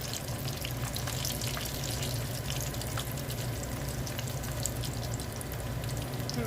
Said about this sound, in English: Why is it making the frying noise way more?